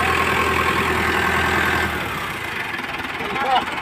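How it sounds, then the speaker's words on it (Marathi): A school bus engine idles with a rough diesel rumble, then the note shifts as the bus starts moving, loud and close, while someone talks over it. "फायनली बस निघण्याच्या तयारीत आणि बस निघलेली आहे"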